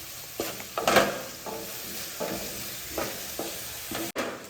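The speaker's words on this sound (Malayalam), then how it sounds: "തിളച്ച് മറിയുന്നു." Water boils over in a pot while ghee rice is being cooked, giving soft hissing and sputtering bursts. The bursts are irregular, close and fairly quiet, with no speech.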